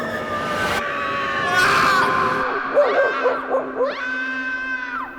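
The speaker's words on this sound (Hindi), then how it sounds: "जैसे कोई रो रहा हो।" In a haunted graveyard, used as a horror story effect, a ghostly voice cries and wails in high, wavering tones, with sobbing breaks and rising whimpers, close and eerie over a faint hum.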